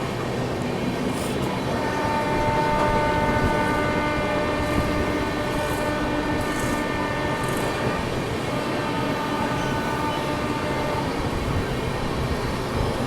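Bihar Sampark Kranti Express, New Delhi to Darbhanga, rumbling steadily at speed while overtaking the Azimabad Express, a continuous loud rolling roar with sustained tonal hum and brief bursts of clatter throughout.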